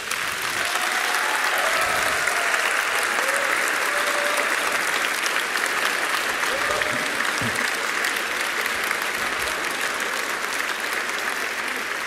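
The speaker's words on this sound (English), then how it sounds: "So turn around and give them a big round of applause." An audience at an EDHEC Executive Education celebration ceremony gives a long, dense round of applause, loud and sustained from start to end, with faint crowd murmurs and a few voices underneath.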